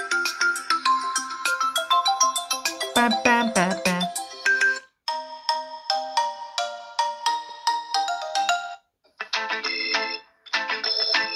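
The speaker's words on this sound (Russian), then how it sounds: "качество не очень рингтона." A bright electronic ringtone melody plays loudly from a Tecno Camon 20 Pro smartphone, switching between tunes with short gaps of silence between phrases.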